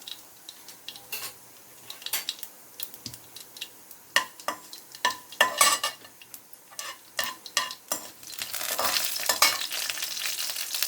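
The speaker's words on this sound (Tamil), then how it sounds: "ரெண்டு வரமிளகா சேர்த்துக்கோங்க இதெல்லாம் கொஞ்சம் பொரியட்டும்" Two dried red chillies fry in hot oil in a pan, and close spoon scrapes and clinks against the metal come in irregular bursts. A louder, steady sizzle builds toward the end.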